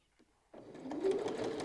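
A sewing machine stitching a quilt with a rotating mandala pattern guide starts up after a brief quiet moment, then runs in a steady, fast mechanical whir close by.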